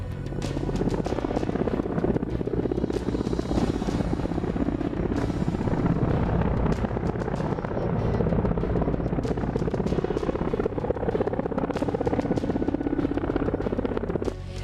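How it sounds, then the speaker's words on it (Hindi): Apache military helicopter flying during an army demonstration near Pangong Lake in Ladakh, its dense, continuous rotor thrum and engine whine loud and steady throughout, with no clear speech over it. "फौज के टैंक ते अपाचे हेलीकॉप्टर भी प्रदर्शन च शामिल रहे।"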